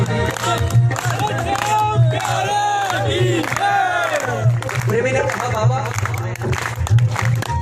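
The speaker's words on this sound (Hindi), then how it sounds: "हाथ फैला के तालियां बजाकर एक साथ।" Crowd at a bhajan performance clapping along with raised voices and shouts, a loud, dense mass of claps and cheering over a steady low hum, with someone speaking through it.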